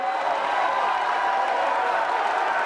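A debate audience of candidate supporters claps at the close of a session, a dense, even wash of applause and crowd noise held steady from start to finish.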